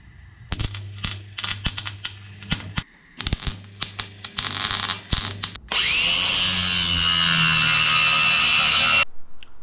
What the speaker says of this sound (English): time to get the welder back out again